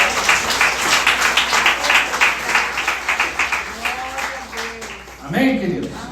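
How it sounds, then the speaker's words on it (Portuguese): Church congregation applause fills the room, a dense rolling clap that thins out toward the end, where a voice begins speaking over the fading claps. "Uma salva de palmas ao Senhor."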